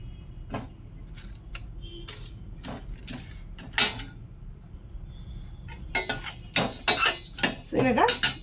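Spices for masala powder dry-roasting in a pan, with irregular metallic scrapes and clinks of a spoon stirring against the pan, sparse at first and then busier toward the end.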